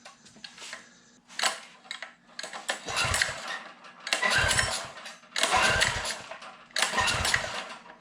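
An old minibike engine that had sat seized for years is cranked and sputters through several uneven bursts of firing and revving, loud and close, with short pauses between attempts.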